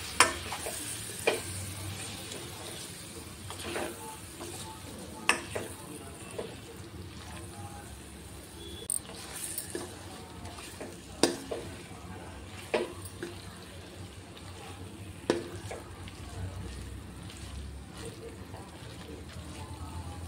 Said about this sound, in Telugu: తర్వాత ఈ మసాలాను అంతటిని బాగా పచ్చివాసన పోయే వరకు